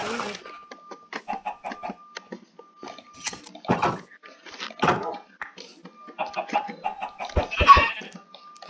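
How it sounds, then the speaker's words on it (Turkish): Short clucking chicken calls in Minecraft repeat in quick bursts among game-style effects, with a steady tone and a few sharp thumps near the end. "yeni tavuk geldi."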